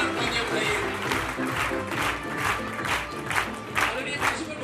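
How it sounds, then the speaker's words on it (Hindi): Applause at a school annual honours ceremony, a crowd clapping loudly and continuously in rhythmic bursts with some cheering mixed in, filling a large gathering space. "जोरदार तालियां बजाइए।"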